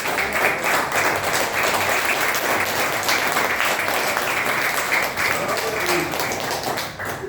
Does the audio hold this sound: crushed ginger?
no